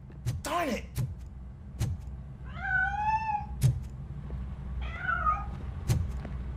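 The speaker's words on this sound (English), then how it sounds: "It went through here, but that's a very narrow passage." An escaping cat meows twice in drawn-out, wavering cries between sharp thumps and a short squeaky call at the start, fairly close with low background rumble and no talk.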